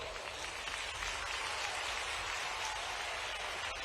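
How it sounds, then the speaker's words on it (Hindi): A rally audience claps loudly and continuously, a dense, even wash of many hands sustained throughout with no pause. "इस पे जोर से ताली बजाओ बहनों।"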